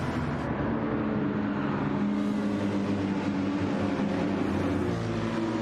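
Race car engine accelerating through a corner on the first lap of a race on medium tyres, a steady loud roar with continuous drone and no voices.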